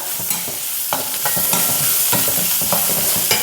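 Turmeric powder being stirred in a frying pan for a bitter gourd fish curry, with irregular scraping strokes of the utensil over a steady sizzling fry, close and fairly loud.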